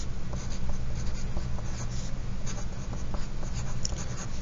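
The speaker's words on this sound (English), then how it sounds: "please go ahead and write your name at the top of the paper" A pencil scratches steadily across paper as a name is written at the top of a worksheet during a spelling lesson, a continuous close scratching over a low background hum.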